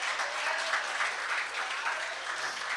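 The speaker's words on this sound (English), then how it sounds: "Let's give her a round of applause." Steady applause from the audience at an anti-crime town hall meeting in Morvant, a continuous, even patter of many hands heard from a moderate distance, with no voices over it.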